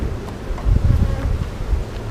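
Honeybees buzz in an opened hive box, a dense low drone that swells and holds close to the microphone, with light wind rustle and no voices.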